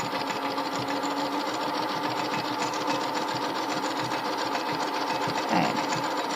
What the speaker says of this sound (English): I'm going to keep my elastic stretched as I'm sewing this.